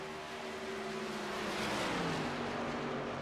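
Race trucks in a NASRA round at Las Vegas lift off the throttle going into a corner, a loud, continuous engine roar whose pitch sweeps down as they decelerate, with no talk over it.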